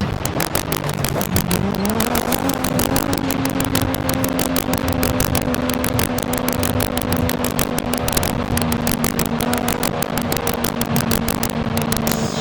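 Nissan GT-R engine roaring steadily at high revs while driving in the racing game Forza Horizon 5, a loud continuous drone with a sustained pitch and no talking over it.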